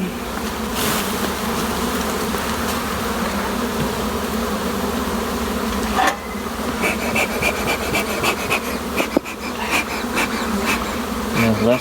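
A dense, steady drone of honey bees buzzing at an open, strong hive, loud and close throughout with no pauses, plus a few faint scraping and rubbing sounds near the hive.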